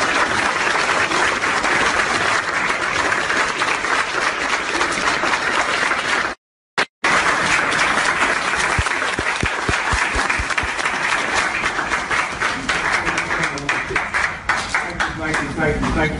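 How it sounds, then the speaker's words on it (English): Sustained, dense applause from a large audience rising for a standing ovation honoring Dick Gregory, loud and continuous, broken by a brief dropout midway before the clapping resumes and gradually thins. "give a resounding round of applause and a standing ovation to the Honorable"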